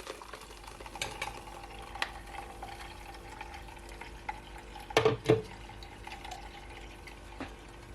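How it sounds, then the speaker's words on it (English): Freshly blended cucumber juice with lime and ginger running through a strainer, a soft steady liquid trickle with light scraping and two close, louder clatters of utensil against the strainer midway. "I'm gonna strain it at least 2 times, okay?"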